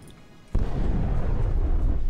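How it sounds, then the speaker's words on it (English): Heavy artillery firing in the real-time strategy video game Regiments, a sudden deep boom after a quiet moment, followed by a sustained low rumble that fills the rest of the moment. "Let's bring in the big artillery."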